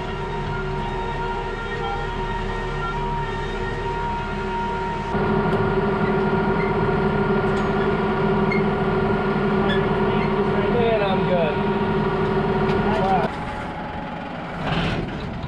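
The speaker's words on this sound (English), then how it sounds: "We got the blower running just to get fresh air up there" A silo blower runs at a heifer farm's silo, a steady loud mechanical drone with strong harmonic hum that grows louder partway through, then drops back near the end.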